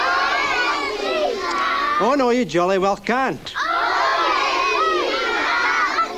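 A crowd of children in a Christmas magic show audience shout loudly together, a rising chorus in the middle that breaks off, with someone talking over them before and after.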